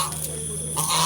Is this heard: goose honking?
yes